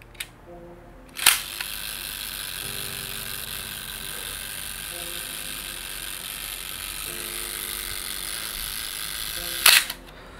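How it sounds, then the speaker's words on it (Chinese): A large Sinar DB shutter mounted on a large-format camera fires with a sharp mechanical snap, followed by a steady whirring hum, then a second loud snap near the end, close and clear with no talk. "快门 激发， 很多动作一起完成。"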